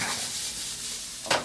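Pistachios and chili flakes sizzle in a hot pan, a loud, close, continuous frying hiss with a brief scrape or stir burst near the end, no talking.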